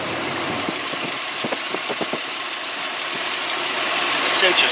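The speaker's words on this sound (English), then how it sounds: "So I'm just going to be quiet now and let you listen to the motor." A 2004 Ford Explorer XLS 4WD with a 4.0-liter six-cylinder engine idles steadily, a low continuous hum with a few faint knocks and clicks, heard close and alone without talk.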